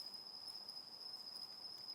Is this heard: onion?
no